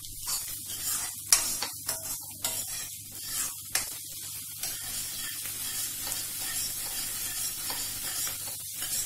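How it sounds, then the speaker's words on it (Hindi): Onions sizzle and fry in oil in a pan, a steady close hiss broken by several scraping stirs early on, then settling into continuous frying. "प्याज को ज्यादा ब्राउन नहीं करना, थोड़े से सॉफ्ट होंगे तो तभी हम सारी सब्जियां डाल देंगे।"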